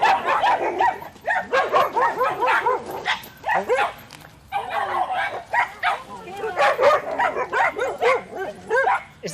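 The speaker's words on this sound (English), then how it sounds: "other dogs get an equally raucous reception." Several dogs bark and yip raucously at another dog in rapid, overlapping bursts, loud and near, with whimpering mixed in and hardly a pause.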